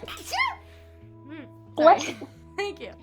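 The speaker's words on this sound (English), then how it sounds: "I gotta sneeze." A single sneeze bursts out mid-conversation, sandwiched between short spoken phrases from people talking nearby.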